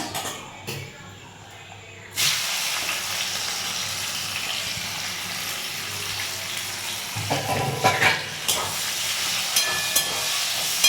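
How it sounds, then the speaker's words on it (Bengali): Onions fry in a pan with bay leaf, cinnamon and cloves, starting with a sharp sizzling hiss that settles into steady frying, with a few clatters near the end. "পেঁয়াজটা লাল করে ভাজবো"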